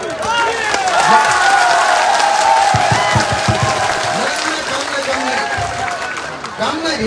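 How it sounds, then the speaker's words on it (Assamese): A crowd claps and cheers loudly at a political meeting in Assam, with applause swelling across several seconds while a speaker's amplified voice carries over the top. "জোৰকে হাত তালি।"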